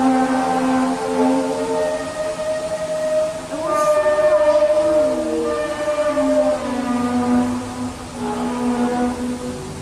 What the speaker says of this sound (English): One of the more popular trumpet sounds videos is from Terrace